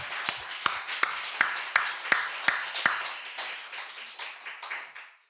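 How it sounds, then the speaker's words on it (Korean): Church congregation claps during a sermon, a few loud, close, sharp claps in a loose rhythm that thin out and fade into a softer smattering. "감사의 박수를 올립니다"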